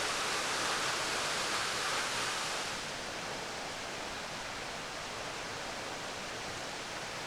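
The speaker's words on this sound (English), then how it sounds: "we came upon a small waterfall" A small waterfall near the village of Mikladalur in the Faroe Islands pours in a steady, broad hiss of falling water, fairly soft and constant, easing slightly after the first few seconds with no voices.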